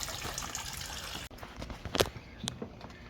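Liquid trickles and drips from a C6 Z06 LS7 V8 engine during cylinder head removal, a soft broadband wash with a few sharper splashes standing out near the end, close by with no talk.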